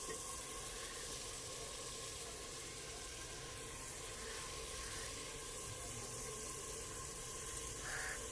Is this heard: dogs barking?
no